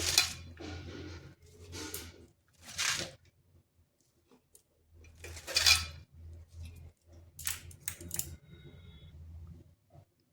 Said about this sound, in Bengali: বাঁধাকপিগুলো এই প্রেসারের মধ্যে দিয়ে দিচ্ছি